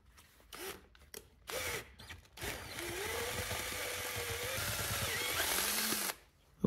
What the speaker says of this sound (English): now we'll just drill it back the other way.